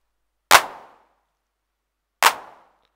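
A Roland TR-8 drum machine hand clap fires twice, clean and bright with a quick noisy decay, separated by nearly two seconds of silence.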